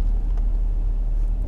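A Jaguar XJR cruises along with a steady, heavy low rumble of engine and road noise filling the cabin, constant and loud without breaks.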